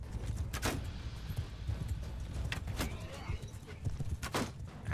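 Hooves clip-clop in the medieval combat game Bannerlord, a steady rhythm of muffled thuds under scattered sharp battle impacts and constant background noise, with no talking.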